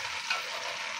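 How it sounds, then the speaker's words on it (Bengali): Ginger and garlic paste frying in a pan with browned onions for beef khichuri, a faint, steady hissing sizzle with no talking. "কাঁচা স্মেলটা চলে যাওয়া পর্যন্ত ভেজে নেব আদা রসুন"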